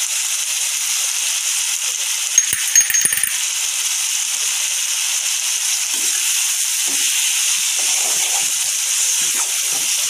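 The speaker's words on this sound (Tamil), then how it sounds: "தக்காளி நல்லா வதங்கட்டும்" Tomatoes with salt sauté in a pan, a steady bright sizzle throughout with a brief clatter of stirring near the start.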